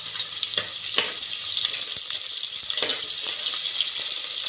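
Finely chopped onion tipped into hot oil with popped mustard seeds for brinjal masala, a steady loud sizzle filling the whole stretch, with a few brief clinks and stirring knocks over the frying hiss.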